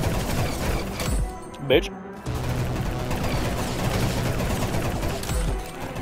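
Pistol gunfire in the Roblox shooter Arsenal: quick clusters of shots under game noise, a short quiet gap, then more rapid firing, with a player's voice briefly heard over it.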